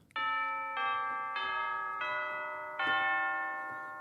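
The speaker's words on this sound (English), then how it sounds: "down here we have tubular bells" A synthesizer's tubular bells patch strikes five separate bell notes, each ringing on with a long, bright sustain that overlaps the next, clear and alone with no voices.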